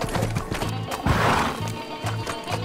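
Horse in the Six-Guns Western video game whinnies while its hooves clip-clop in a quick, regular rhythm, close and fairly loud, with a brief voice over the top.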